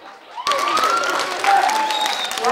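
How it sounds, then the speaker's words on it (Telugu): An audience at a children's special cultural event bursts into loud, dense applause that starts abruptly and stays steady, with faint whistles and cheers mixed in. "గట్టిగా చప్పట్లు కొడితే పిలుస్తా"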